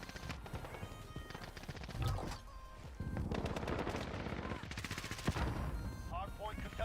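Rapid bursts of automatic gunfire crackle through a video game Hardpoint match, with several volleys and single shots layered over game effects and no pause in the shooting.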